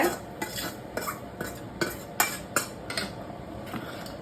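A spoon scrapes and clinks rhythmically against a kadai while cooked dal is mixed with sautéed onions and tomatoes, giving about ten regular stirring strokes with a faint sizzle underneath and no talking.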